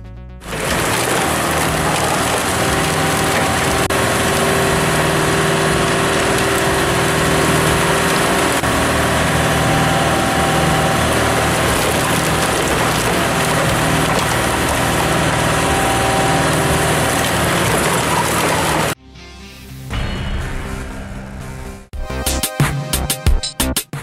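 The engine of a Super Splitter log splitter mounted on a dual-axle trailer runs loud and steady for about nineteen seconds, then cuts off. A few shorter mechanical clatters follow at the end.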